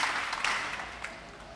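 A church congregation applauds after a sermon, with dense, steady clapping from many hands that fills the room and fades slightly over a brief moment.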